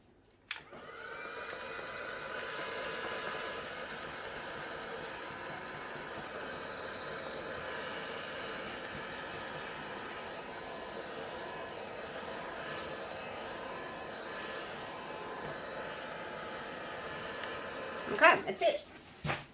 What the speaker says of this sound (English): I'm going to give it a bit of heat with the heat gun